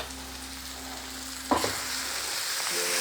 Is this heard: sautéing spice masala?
yes